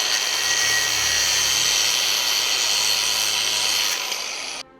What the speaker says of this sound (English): I'm going to get my hacksaw, you can use a grinder, and you can then cut that off